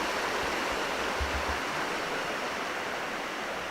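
A river flows steadily near a backpacking campsite in the Ouachita Mountains, a dense, even rush of water that holds without pause throughout, close and fairly loud.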